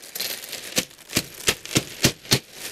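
Screws are gathered with a magnetic clip inside a plastic bag, giving a series of five or six sharp, close clicks and clinks over rustling plastic, at a quick but uneven rhythm.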